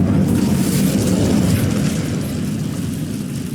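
A roaring burst of fire from the Incendio spell in Hogwarts Legacy, a loud sustained whoosh with a deep rumble that holds steady and eases slightly toward the end, with no voices.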